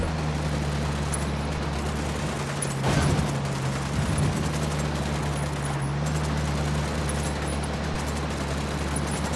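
Sustained game gunfire in Ghost Recon Wildlands, a dense steady crackle of shots over a low rumbling bed with a louder burst around the middle; no one speaks.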